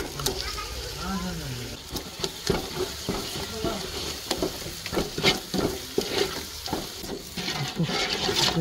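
Spices and yogurt sizzle and get stirred in a hot pan while Dindigul biryani is being made, with scraping clatter and sputtering all through and a voice talking over the cooking.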